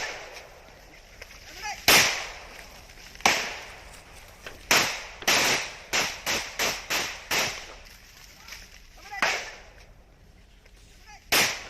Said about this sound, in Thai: เสียงปืนดังสนั่นนะครับ